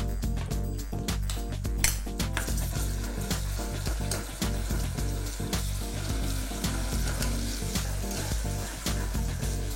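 Ginger garlic paste fries and is stirred in a pan for a healthy pulao, a steady sizzle with frequent scraping and clinking of a spoon against the metal, close and continuous.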